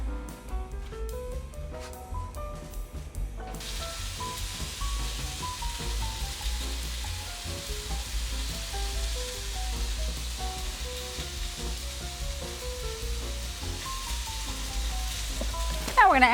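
Thin slices of potato, fanned into one even sheet, sizzle steadily in a hot pan, a constant hissing crackle under background music.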